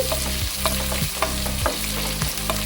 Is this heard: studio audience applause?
no